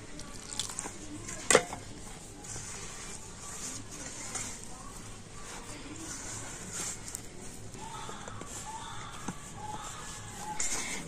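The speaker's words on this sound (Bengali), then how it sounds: "সেই জল দিয়ে আমি মাখছি।" Wheat flour dough worked by hand with room-temperature water, added a little at a time: soft, wet squelching and pressing, low and fairly steady, with one sharper tap early on and light background noise throughout.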